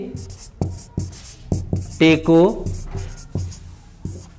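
Chalk tapping and scraping on a board in a classroom, a series of short sharp knocks spaced through the clip while a teacher speaks.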